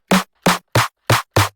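Default snare from a snare drum generator using samples, struck five times at a steady rhythm, each hit a short, bright crack with a brief tonal body, close and clean, with no talking.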